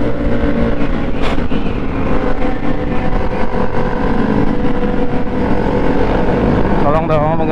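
A motorcycle engine held at full throttle on a Sunday morning group ride roars loudly and continuously with wind buffeting, while voices talk over it.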